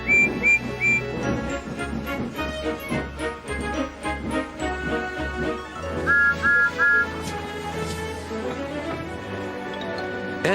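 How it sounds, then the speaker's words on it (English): Steam engine whistle from Gordon, the big engine in Thomas the Tank Engine, blown as he nears the station: short repeated toots over bright music, loud and close. "Then Gordon whistled as he approached the station."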